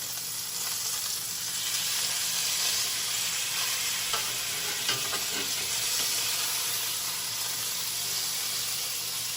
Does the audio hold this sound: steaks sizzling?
yes